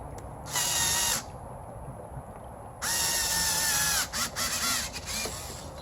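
A power drill or driver tightens a fitting while installing an XtremepowerUS solar pool heating system, whirring loudly in two bursts followed by several short stuttering pulses close by, with no talking.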